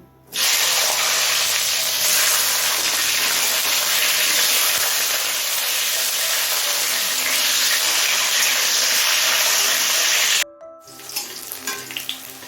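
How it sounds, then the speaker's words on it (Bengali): Bitter gourd fries in hot oil for a Kashmiri sukto, giving a steady, loud, close sizzle that runs unbroken for about ten seconds before cutting off, followed by a few quieter clinks. "এবার এই তেলে উচ্ছেগুলো ভেজে নেব"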